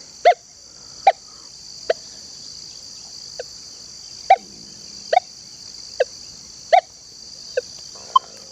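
A series of short, sharp electronic chirps from a Minelab Manticore or XP Deus 2 metal detector repeats at irregular intervals over a constant high-pitched whine, clear and close.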